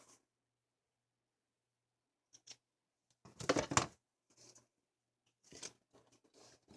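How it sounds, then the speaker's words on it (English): Scissors snip in a few short, close bursts of cutting, with quiet pauses between them. "I know I just had my scissors. I'll trim this off."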